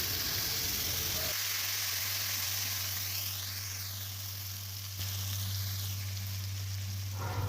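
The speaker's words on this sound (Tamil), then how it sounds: "காஞ்ச மிளகாவும் கருவேப்பிலையும் நல்லா பொரிஞ்சதும் நம்ம அரைச்சி வச்சுருந்த இந்த தக்காளி சேர்த்துக்கலாம்" Ground tomato goes into hot oil with fried dried chillies and curry leaves for mango tomato thokku, and a loud hiss starts up and settles into a steady, close sizzle that holds to the end.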